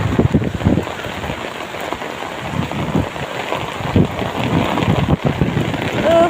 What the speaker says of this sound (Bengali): প্রচণ্ড বৃষ্টি, ছাতা ধরে রাখতে পারতেছি না, বাতাস ছাড়ছে।